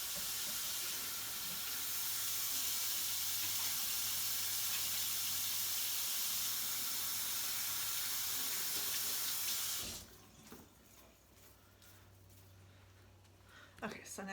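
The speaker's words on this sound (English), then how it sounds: "So let me wash my hands really quickly." A kitchen tap runs loud and steady as hands are washed, a broad rushing hiss for about ten seconds before it is shut off, leaving quieter clatter and a little talking.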